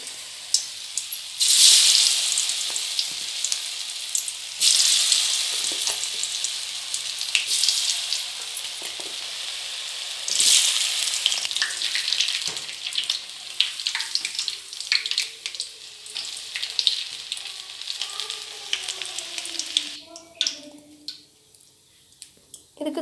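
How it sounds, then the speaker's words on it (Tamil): Spiced fig chili pieces deep fry in a small amount of hot oil, a bright crackling sizzle that swells and eases in bursts, fading toward the end to quieter bubbling. "சூடான எண்ணெயில் போட்டு பொரிச்சு எடுத்துக்கலாம்."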